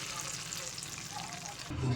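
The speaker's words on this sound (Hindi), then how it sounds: "इसको अब खूबसूरत सा तड़का लगाएंगे" Cumin and whole red chillies sizzle sharply as a hot tadka is poured over mixed dal in a bowl, with a steady crackling hiss that swells louder at the end.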